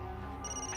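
A telephone rings at night, a brief electronic ringtone starting partway through and sounding alone with no voices.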